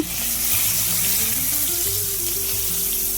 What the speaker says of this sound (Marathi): इथे कढई ठेवली त्यामध्ये जिरे पत्ता घालून घेतला आहे आणि आपले आले लसूण यांची पेस्ट केलेली ती घातली आता आपण छान परतून घेऊया